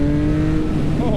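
A 2019 Triumph Speed Triple motorcycle engine drones loudly and steadily at speed under acceleration, with wind noise filling the brief stretch.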